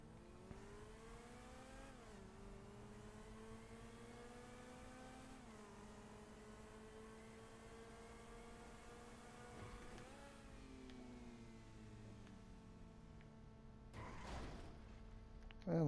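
A car in GTA 5 driving up and over a custom ramp, its engine droning steadily with rising and falling revs, the pitch dipping sharply at each shift or bump, with a louder burst near the end.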